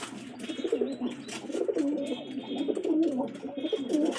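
Pigeons kept in a backyard loft coo in repeated soft, throaty phrases, several overlapping calls rolling continuously at close range with no talk.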